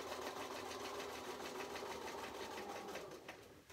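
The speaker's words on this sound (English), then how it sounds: "let's just try and do a locking stitch without cutting the thread" A sewing machine runs steadily as it stitches around a strip-roll (jelly roll) fabric mat, a dense continuous whir with a rapid needle rhythm that eases off near the end.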